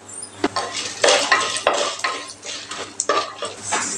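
Urad dal, chana dal, garlic cloves and dried red chillies dry-roast in a pan, with a spoon repeatedly scraping and clattering against the metal over a light, low sizzle, close up and without voices.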